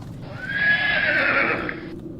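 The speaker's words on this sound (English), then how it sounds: "slowed his horse to a gradual stop." A horse ridden by a company leader gives a single clear, rising whinny lasting over a second, with faint hoof sounds underneath as it slows to a stop.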